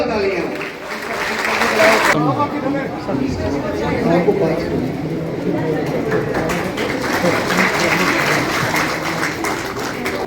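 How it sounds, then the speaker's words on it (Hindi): Loud crowd applause at a political welcome event in Kathua, Jammu and Kashmir, honoring a cabinet minister; dense clapping carries on steadily over chatter and cheering, with voices mixed into the sound. "इनके लिए जोरदार तालियां।"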